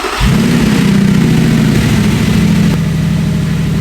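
An Audi R8 engine catches and settles into a loud, steady rumbling rev that holds for a few seconds before easing slightly.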